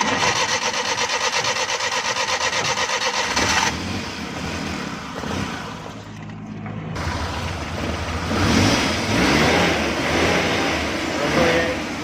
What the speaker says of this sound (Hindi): अब हम गाड़ी को स्टार्ट करेंगे।